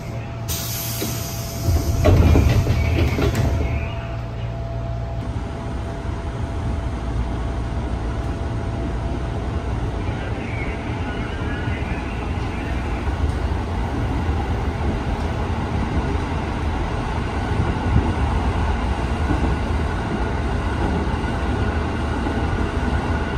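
Interior ride on a used Japanese-built KAI Commuter train in Jakarta: a steady rolling rumble and hiss throughout, with a louder burst of clatter near the start and no voices.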